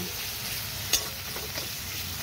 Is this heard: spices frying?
yes